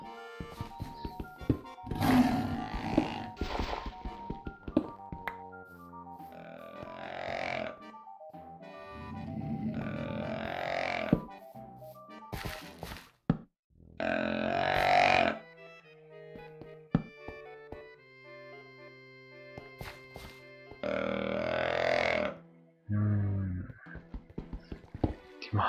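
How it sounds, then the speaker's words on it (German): Deer calls in the video game Minecraft, several loud, drawn-out bellowing cries in separate bursts over about 25 seconds, with short gaps and a faint background between them. "Ein paar Geräusche, die Hirsche."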